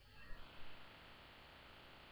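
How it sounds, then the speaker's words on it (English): An electric fan runs close by in a hot apartment, giving a steady broadband whir with low hum that holds evenly through the whole stretch, with no talk over it. "if you hear a noise in the background, it's a fan"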